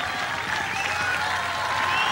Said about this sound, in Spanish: para el cual pido un gran, gran aplauso por todo lo que representa